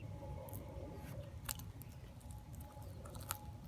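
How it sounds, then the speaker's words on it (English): Scissors snipping through a paper Starbucks coffee cup, a run of small crisp cuts and crunches close to the microphone over a low steady background. "Keep on going with the scissors."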